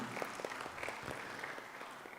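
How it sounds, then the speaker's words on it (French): Applause for Noéline at a general assembly of the African Man and Biosphere reserves network, a faint, steady wash of clapping from a room audience. "On applaudit aussi pour Noéline"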